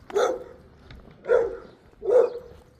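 Dogs bark on a walk through a park reserve, three separate bark bursts spaced about a second apart at moderate distance, each with a short whining tail.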